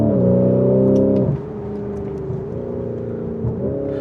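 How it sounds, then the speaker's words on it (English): A Lamborghini Urus SE SUV's exhaust snarls as the revs climb, then drops to a lower burble and rises again, loud and close throughout with no voices. "the exhaust is pretty good on this thing. It snarls and pops and burbles the way you want it"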